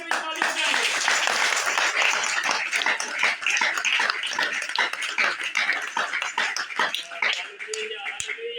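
A church congregation claps together in a dense, loud, continuous burst that thins out near the end, with a voice speaking over it.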